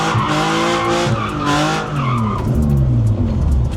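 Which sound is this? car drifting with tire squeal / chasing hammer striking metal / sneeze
car drifting with tire squeal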